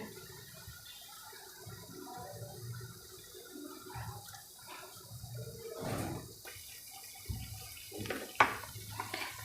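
Hot water is poured into a pan of radish greens, a quiet, close splashing and gurgling that swells toward the end with a few small knocks.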